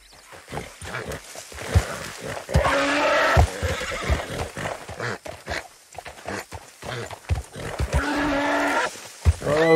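Horse whinnies and snorts from a tiger-striped bay mustang in Red Dead Redemption 2, loud and close, with bursts of neighing through the middle and end, broken hoof and movement thumps in between.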